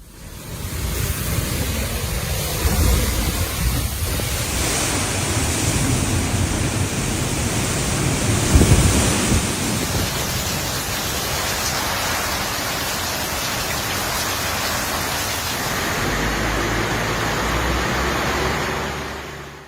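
Heavy rain from Storm Max in Mexico, a steady dense broadband wash with flood-water roar, loud and continuous throughout, with a brief low thump midway that may be distant thunder.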